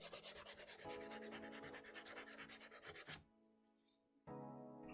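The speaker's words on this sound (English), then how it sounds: "we're going to dry sand it with a low grit sandpaper and then work our way up to a high grit to smoothen it out" Low-grit sandpaper dry-sanding the damaged leather of a Jordan 4 Motorsport Blue sneaker: close, steady back-and-forth rubbing strokes in a quick rhythm, with a short pause before the scraping resumes.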